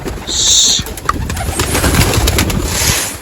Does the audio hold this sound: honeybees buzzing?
no